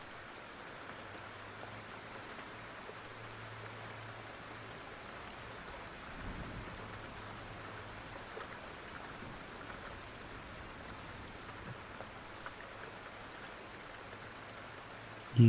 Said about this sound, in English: Take a few moments to enjoy the gentle rainfall.